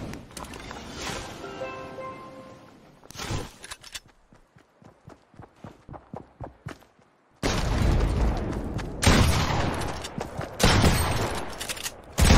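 Shotgun blasts in Fortnite Team Rumble, a shotguns-only match: a burst of rapid, heavy shots up front, then a run of sharp, evenly spaced clicks and taps, and a loud closing stretch of booming fire with hits and game effects.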